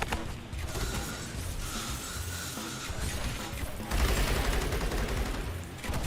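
A mortar tower in Rogue Tower firing repeatedly, dull launches and blasts blending with clattery mechanical game effects at a steady moderate level, swelling louder toward the end; no talking.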